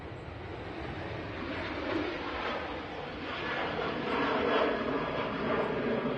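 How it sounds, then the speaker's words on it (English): A Ryanair airliner bound for Porto departs Manchester Airport, a continuous, moderately loud jet rumble with wind buffeting the microphone and a gentle rise and fall in intensity throughout. "This is the Ryanair to Porto."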